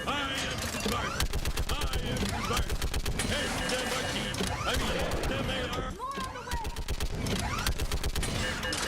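Mounted guns fire in Mass Effect 3 as a dense, continuous rapid-fire burst of automatic gunfire with mechanical clanks, loud and close throughout, while a voice talks over the shooting.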